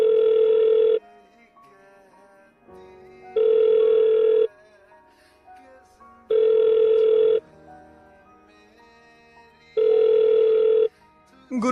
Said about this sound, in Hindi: गुरुजी को फोन लगाता हूँ